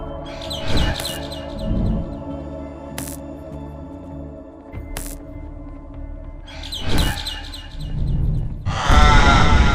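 Bird calls from the Garten of Banban 6 game: a few sharp chirps and tweets break out over a steady droning musical background, ending in a louder burst of noisy squawking.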